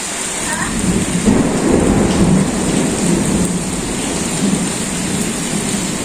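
A village thunderstorm with heavy rain pouring down outdoors, a loud continuous wash of rainfall with deep rumbling thunder rolling underneath throughout, and no voices.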